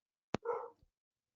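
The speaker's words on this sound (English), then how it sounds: "I apologize for the barking dogs in the background" A single short dog bark, faint and distant, preceded by a sharp click, with silence around it.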